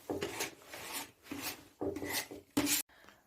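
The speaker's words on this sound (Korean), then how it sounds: "고운 사포로 이렇게" A wooden chair being hand-sanded with fine sandpaper during a vanity and furniture makeover, heard as several rhythmic rasping strokes, close and fairly loud, with short pauses between them and no talk.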